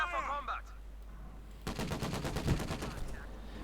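Rapid machine-gun bursts in Company of Heroes 2 rake at enemy infantry at range, a quick rattling string of shots following a short stretch of speech.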